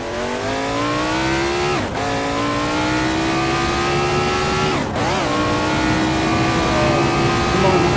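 A supercharged race car engine in Assetto Corsa screams loud and steady, pitch climbing through each gear with two brief dips at the upshifts, a voice talking faintly underneath.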